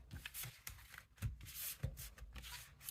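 Tarot cards are shuffled by hand close up, giving soft, irregular papery rubs and slaps in quick bursts, quiet and alone.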